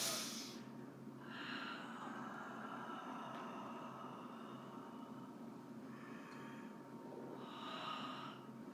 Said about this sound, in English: Breathing loud so you can hear me.